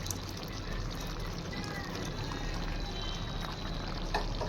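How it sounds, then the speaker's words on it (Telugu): Tamarind juice pours steadily into a tomato curry in a pan, a continuous splashing trickle that runs for several seconds under low background noise. "చింతపండు రసం వేసుకుందాం."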